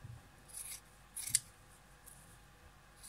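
Scissors trim the seam allowance of sewn fabric on a romantic-style oven cover, giving a few faint, short snips and rustles against a quiet room.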